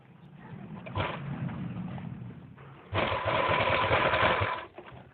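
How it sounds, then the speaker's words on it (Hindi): A sewing machine stitches the seat pieces of a Patiala salwar in two bursts, a softer run followed by a louder, faster whirring stretch that stops abruptly; a faint cooing bird sounds in the background. "तो पहले सिलाई करेंगे हम आसन की"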